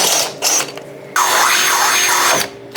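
A power drill with a 1/4 inch bit bores holes for mounting a light bar on a CFMOTO UForce 1000, with a brief burst, then a longer whining run that rises and falls as the bit bites.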